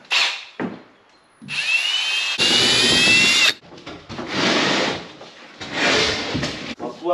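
A cordless power drill unscrews fasteners on a Vito van, with short whirring bursts separated by pauses, clicks and handling clatter, loud and close.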